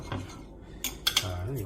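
Metal cutlery clinks against a plate of grilled abalone braised in soy sauce and butter, with a few crisp, close clatters and scrapes separated by brief quiet gaps.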